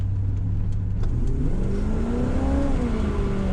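A Trans Am V8 engine with a Flowmaster exhaust revs up loudly, its pitch climbing then easing back, a steady throaty roar throughout.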